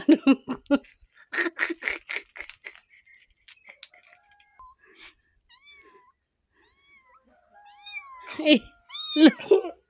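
A cat meows several times in short, rising and falling calls, close and clear, after a stretch of voices and a child's crying.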